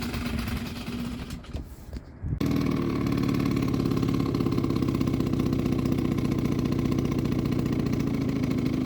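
A 2001 Hyosung Sense scooter engine, low on power, sputters unevenly at first, then catches and settles into a steady, buzzing idle with a fast regular putter, close and continuous.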